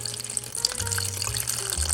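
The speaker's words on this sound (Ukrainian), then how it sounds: "Заливаю воду в каструлю холодну, не доливаючи до самого верху." Cold water pours steadily into a pot, a soft continuous splashing and gurgling that deepens slightly as it fills, close by.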